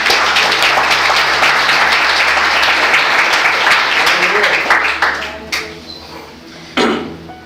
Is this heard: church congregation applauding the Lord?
yes